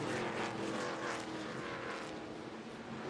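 NASCAR Craftsman Truck Series race trucks roaring around the Milwaukee Mile oval, a steady loud engine drone with rising and falling pitch as trucks pass close by, continuous throughout with no talk.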